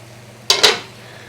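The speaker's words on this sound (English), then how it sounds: "I found my lid, put my lid on" Metal lid set onto a cooking pot on a medium heat: two quick close clinks in rapid succession, the second ringing briefly before fading into quiet.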